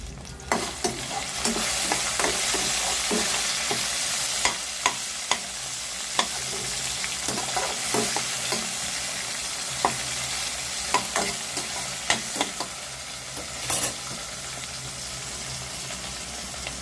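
Onions and tomatoes sizzle steadily in a pan for brinjal curry, with a continuous frying hiss broken by frequent scraping stirs and clicks of a spoon against the metal, close and without talk.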